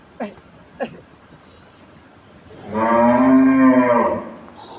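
Friesian dairy cow in her second calving, giving one loud, close, sustained moo after a couple of brief knocks and a quiet pause.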